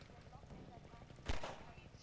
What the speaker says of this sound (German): mit diesem einen Schuss möchte ich das hier auch mal aktivieren